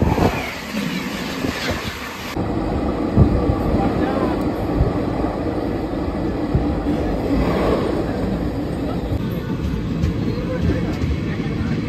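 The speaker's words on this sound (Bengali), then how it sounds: "ট্রেনের স্পিড কিন্তু এখন 107, 108, 109 স্পিডে কিন্তু চলছে।" Passenger train travelling at around 107 to 109 km/h between Tarapith and Kolkata, a steady loud rumble of wheels and rail noise throughout with a rougher, harsher opening stretch, under continuous cabin ambience.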